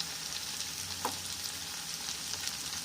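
Idli pieces frying in hot oil for Idly 65, heard as a close, steady, continuous sizzle with a faint clink partway through.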